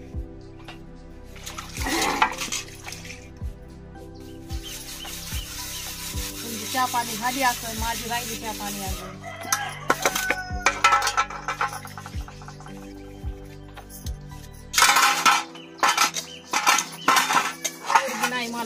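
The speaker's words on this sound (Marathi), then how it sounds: "आता मला भांडे घासायचे" Dishes, pots and pans are scrubbed and washed by hand, with scraping, rubbing and clinking alongside splashing, running water in irregular bursts while someone talks at intervals.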